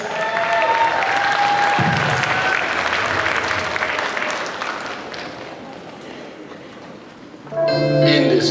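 A crowd at the Supanova Gold Coast cosplay contest applauds as cosplayers come on stage. The sustained, dense applause slowly fades, then amplified music and a stage voice begin near the end.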